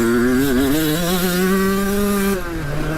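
A 135cc two-stroke dirt bike engine revs hard and close, rising and holding a high pitch, then dropping off near the end. It stays loud and steady throughout with no voices.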